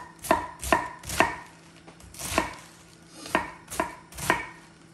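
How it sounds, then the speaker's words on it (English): A knife slices cabbage thinly on a board, seven or eight sharp, close cuts falling in an uneven rhythm, with no speech. "Then take your cabbage. And I'm gonna make some thin slice, not coleslaw, but a little bigger."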